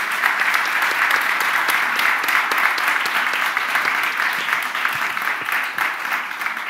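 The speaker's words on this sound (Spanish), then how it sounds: "Yo creo que podemos dar un aplauso a todas las invitaciones de hoy." Audience at a Valencia talk event on art, science and technology applauding, a dense, sustained wash of many hands clapping that runs throughout and eases slightly toward the end, with no speech.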